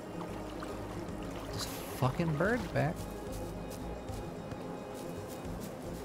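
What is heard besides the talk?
waterfall in Bugsnax video game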